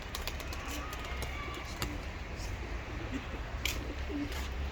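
Seferli tumbler pigeons in Mardin give faint, low coos over a steady outdoor hiss, with a few soft flutters and taps scattered across the stretch.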